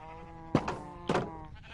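Two short sheep bleats from a Minecraft flock, each a brief nasal cry about half a second apart, fairly close and clear over a steady low hum, with no talking.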